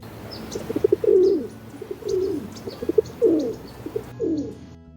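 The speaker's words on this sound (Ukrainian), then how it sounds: "Це голуб." A pigeon at a bird feeder coos in repeated soft, throaty bursts, several low warbling calls in a steady rhythm, fairly close, with faint chirps in the background.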